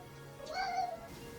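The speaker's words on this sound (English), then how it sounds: "If you hear meowing in the background" A pet cat named Finn gives a single drawn-out meow indoors, moderately faint against the room's quiet background hum, with no other sounds.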